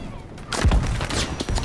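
Gunfire in the World War II shooter game Battlefield 5: a sudden dense burst of shots and thumps after a quiet half second, continuing loud with further sharp cracks near the end.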